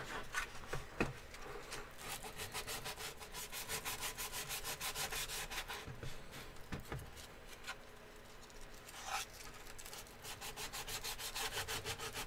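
Wood sanded by hand with steady back-and-forth rubbing strokes, a continuous gritty scratching that repeats in an even rhythm for the whole stretch, close and fairly loud, with no talking.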